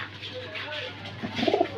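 Pair of racing pigeons at a market farm cooing softly near the listener, a few low throaty coos rising toward the end over a background hum.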